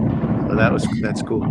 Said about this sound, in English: I don't know if you can hear the fireworks going off.